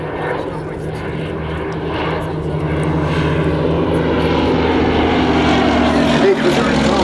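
A vintage Westland aircraft, a forward-firing two-gun design, flies at a Shuttleworth season airshow, its engine drone loud and continuous and swelling slightly as it passes.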